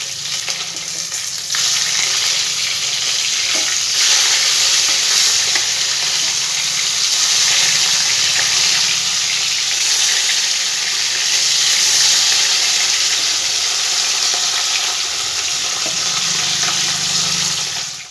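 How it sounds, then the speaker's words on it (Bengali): Rohu fish pieces sizzle steadily in hot oil in a pan after being flipped, a loud continuous crackling hiss that runs unbroken and without any talking. "আস্তে আস্তে মাছগুলো আমি উল্টে দেবো"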